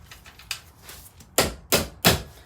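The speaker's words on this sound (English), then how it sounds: "I'm just going to tap a little bit on each side" Three sharp metallic taps on the axle of a Kaabo Wolf King Warrior GT electric scooter to seat a tubeless tire, evenly spaced near the end, preceded by fainter lighter knocks.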